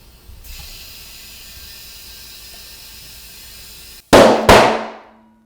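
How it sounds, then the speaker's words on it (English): A motorcycle tire bead seats onto the rim with two sharp, loud pops in quick succession, each ringing off briefly, following a steady hiss of air that cuts out just before them. "There it goes, 2 pops. And the bead is seated"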